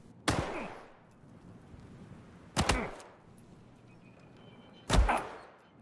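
Three sharp gunshots from an opponent's weapon in a shooter video game, spaced about two seconds apart, each a loud broadband crack with a short decaying tail over a quiet background.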